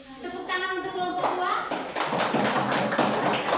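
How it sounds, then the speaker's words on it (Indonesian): A class of students claps for a group of classmates, a burst of scattered, fairly close clapping that follows a teacher's voice and continues under talk. "Tepuk tangan untuk kelompok"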